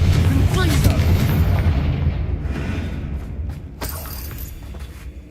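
In the Hogwarts Legacy video game, a Confringo fire spell bursts with a loud, booming explosion that rumbles and slowly fades. A sharp crackle of debris follows near the end.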